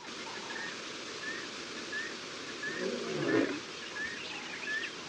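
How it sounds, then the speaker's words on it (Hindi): A lion roars out on the open savanna, one low rumbling roar in the middle of a steady hiss of wind, with faint bird calls in the background. "दहाड़ की आवाज मैदान से आ रही है।"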